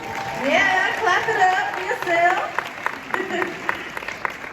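A commencement audience breaks into applause, a dense wash of clapping that swells and then thins out, heard under a speaker's voice.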